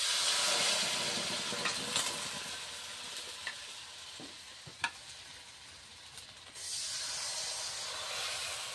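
Thin rice flour batter with raw onion, green chili, turmeric and salt fries on a hot pan, a steady soft hiss and sizzle with a few faint clicks, easing slightly then swelling again near the end.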